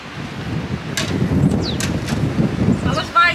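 Strong wind blows across a campsite, buffeting the microphone with a steady, loud rushing roar and a few brief rattles and knocks, while a voice speaks briefly near the end.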